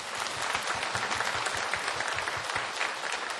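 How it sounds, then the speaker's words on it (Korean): Congregation applauding during a Korean church sermon, a sustained, even roar of many hands clapping together, steady and fairly loud throughout with no talking over it. "영광의 박수 크게 한번 드립시다."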